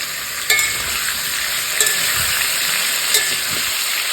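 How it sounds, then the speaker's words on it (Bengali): Pointed gourd and potato pieces, dusted with turmeric, fry in a kadai with a loud, steady sizzle that runs without a break, broken by a few sharp crackles. "আগে কড়াইতে পটল আর আলু দিয়ে দিয়েছি একটু হলুদ দিয়ে দিলাম"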